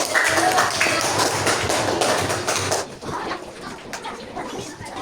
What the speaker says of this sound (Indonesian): Berikan tepuk tangan untuk teman-teman Fitriani.